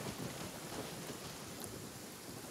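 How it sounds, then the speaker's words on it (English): Rain falls in the video game Genshin Impact, a steady, broad wash of hiss with a low rumble underneath, even and unbroken throughout. "And it is raining."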